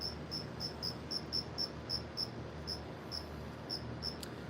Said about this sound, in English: These crickets are crazy.